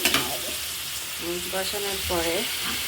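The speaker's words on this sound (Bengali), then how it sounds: "মাছটা হালকা একটু কষাবো, কষানোর পরে" Fish sizzles steadily in hot oil in a pan as it is lightly sautéed for a greens-and-fish dish, a close, continuous frying hiss with faint stirring scrapes and a voice briefly over it.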